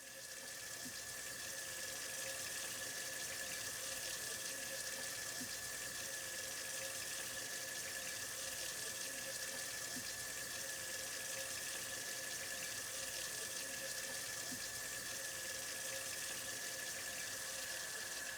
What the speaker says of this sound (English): To wash your hands properly, wet them with clean running water, warm if available, and apply soap.